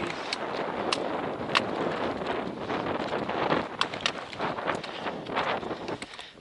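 Cold wind buffets the microphone on a mountain trail, a steady rushing roar with sharp gusty bursts and faint clatter, no talk.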